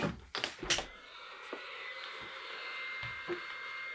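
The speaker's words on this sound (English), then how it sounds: "Use the blower." An electric blower runs steadily at moderate level after a few brief clatters and knocks at the start, with small thumps scattered through the continuous whir; no voices, at a workbench while building a computer.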